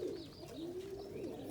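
An Indian Fantail pigeon gives a soft, close cooing call, a single low rolling phrase lasting about a second and a half.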